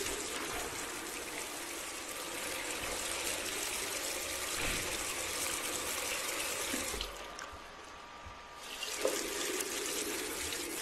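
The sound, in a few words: water running to raise the water level, from a video game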